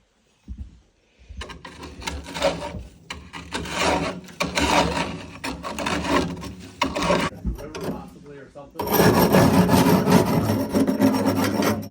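Soot is scraped out of a stove with a tool in rough, irregular strokes of rasping and rubbing, sometimes under nearby talk. The scraping is close and moderately loud, and a denser, louder burst of grinding fills the last few seconds.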